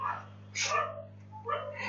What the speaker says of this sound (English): my neighbor's dog barking, that's why it's noisy